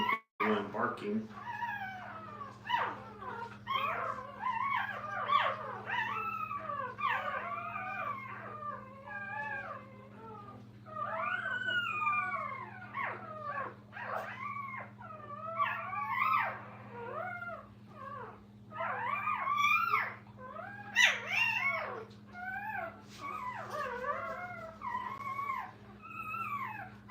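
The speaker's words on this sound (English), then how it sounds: "Even hear one barking." Puppies in a training kennel make a continuous chorus of high, wavering whines, yelps and short howls, moderately close, over a steady low electrical hum.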